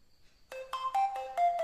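An itel A23 phone powering on plays its startup tone: a faint lead-in blip, then five quick, bright chime notes in a rising, ringing sequence, close and clear.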